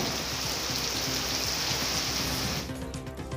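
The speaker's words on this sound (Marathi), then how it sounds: "शहराच्या काही भागात अवकाळी पावसानं हजेरी लावली आहे" Steady unseasonal rain falling in Nagpur, a dense, even wash of drops that holds constant throughout, then thins slightly near the end.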